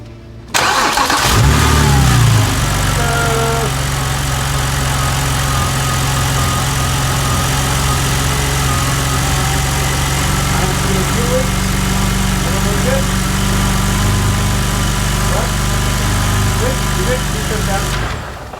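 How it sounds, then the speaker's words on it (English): A BMW 128i with a newly installed flex fuel kit cranks briefly, fires up and settles into a steady, loud idle heard close by, holding for the rest of the stretch with no talk. "Now I'll check for fuel leaks if you want to fire it up. It'll take just a second longer to crank because the fuel line got emptied"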